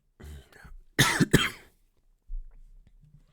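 Two sharp, close coughs in quick succession, preceded by some quiet throat noise and followed by faint rustling.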